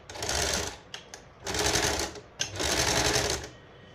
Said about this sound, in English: Start from one corner, straight stitch